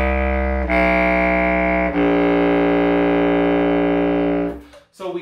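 Bass clarinet descending below its low E, three very deep sustained notes stepping downward with slight breaks between them, loud and buzzy, ending in a brief breath or rustle.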